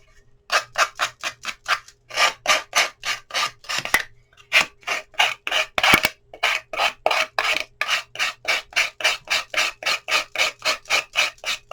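An emery board rasps back and forth along a paper edge to file off the excess, a close, regular series of scratchy strokes with a couple of short pauses.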